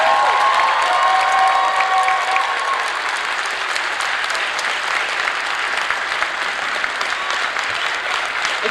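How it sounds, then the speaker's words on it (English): Audience applause fills a convention opening ceremony at Furry Fiesta 2020, a dense, steady wash of clapping from a large crowd with a few faint cheers early on, holding loud for about nine seconds before easing slightly. "Big applause for him, please."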